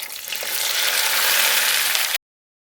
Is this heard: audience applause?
no